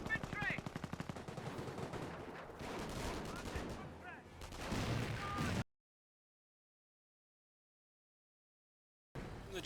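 Gunfire in the Company of Heroes video game, with rapid machine-gun bursts and scattered rifle shots around a trench, fairly loud and dense for several seconds, then cutting to silence before a brief return.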